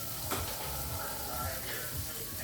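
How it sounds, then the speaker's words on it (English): Onions sautéing in a hot pan, a soft continuous sizzle with occasional stirring scrapes, close and fairly quiet, with a voice talking faintly over it. "I'm gonna saute these onions down just for flavor."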